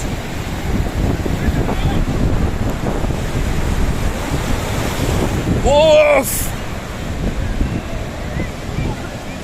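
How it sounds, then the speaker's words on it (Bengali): Sea waves surge and break on the sandy beach at Cox's Bazar, a continuous roaring wash with wind buffeting the microphone, loud and close, with a brief whistle-like tone near the end. "সমুদ্রের ঢেউ এবার একটা ঢেউ নিব এই যে আসতেছে"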